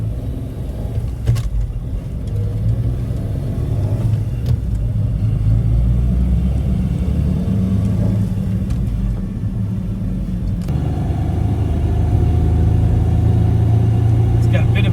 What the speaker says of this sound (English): I think resonator might be rattling or something